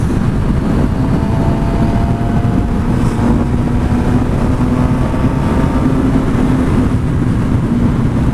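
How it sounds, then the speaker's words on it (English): Steady, loud wind buffeting on a 2017 Suzuki GSX-R 750 motorcycle at riding speed, a constant low roar with the engine drone blended underneath, no speech. "I am noticing a decent amount of wind."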